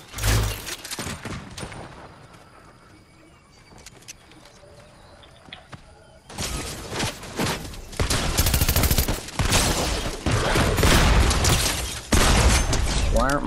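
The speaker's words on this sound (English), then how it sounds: "I'm shooting at the same ones from behind them" Rapid bursts of gunfire crackle in a shooter video game, starting with scattered shots. A quieter stretch follows, then sustained, dense volleys build loud and close through the final half. Game bird cooing may sit in the background.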